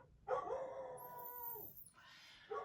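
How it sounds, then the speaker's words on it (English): A female dog howls indoors, one long drawn-out wavering howl followed by a shorter rising cry, fairly close and moderately loud, with no talking. "sorry about the howling dog"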